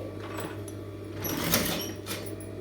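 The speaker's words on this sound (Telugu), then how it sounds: "ఇలా లాస్ట్లో ఒక స్టిచ్ వేసేసుకున్నాం ఫ్రెండ్స్" A sewing machine stitches the hem of a model blouse, its steady mechanical whir running through with a low hum and a brief louder burst midway, and no talking.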